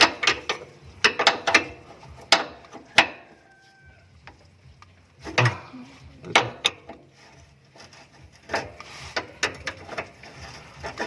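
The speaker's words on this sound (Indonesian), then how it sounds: "lanjut kita akan melepas mur ini, mur 19 ya" Wrench loosening a 19 mm nut on a car's flexible brake hose, sharp ratcheting clicks in quick bursts with pauses and metallic knocks, close by with no talking.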